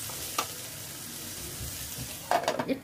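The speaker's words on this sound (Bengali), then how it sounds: "ফ্লেমটাকে মিডিয়ামে রেখে আমি ভাজাটা করে নিচ্ছি" Water spinach greens frying in a pan on a medium flame, a steady low sizzle with a brief scrape near the start and a louder burst of stirring and clattering toward the end.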